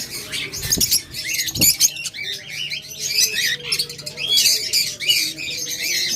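Caged lovebirds and budgerigars chatter and chirp nearby in a dense, busy flock, overlapping squawks and tweets with a few sharp knocks in the cage.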